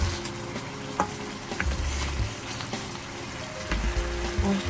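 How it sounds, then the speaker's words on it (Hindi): A spoonful of turmeric fries in olive oil for mutton korma, a steady close sizzle with stirring scrapes and small pops throughout, no talking. "यहाँ पे हम हल्दी डालेंगे 1 चम्मच और उसको भूनना स्टार्ट कर देंगे"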